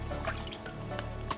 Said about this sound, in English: So I can just dash off the water